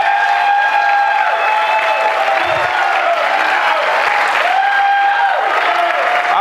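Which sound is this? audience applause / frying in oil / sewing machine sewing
audience applause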